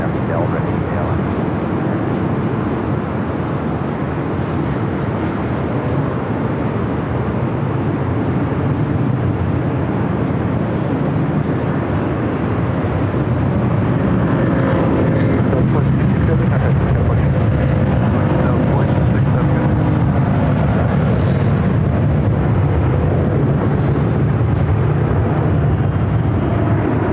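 Sustained broadband jet roar of an airplane taking off from a runway at LAX, building steadily and holding loud throughout, with faint radio voices of air traffic control mixed in.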